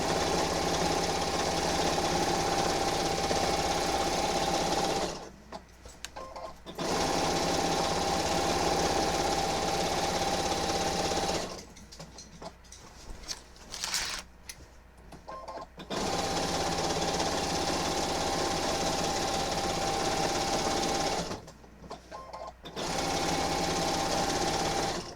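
A sewing machine stitching a quilt with a basting stitch runs at normal speed in steady, close whirring bursts of several seconds each, separated by short pauses.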